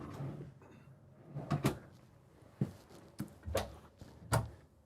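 Drawers opening and closing inside a 2024 Renegade Valencia 36SB motorhome, five or six separate sharp wooden clunks and slides spread over a few seconds, close by in a quiet interior.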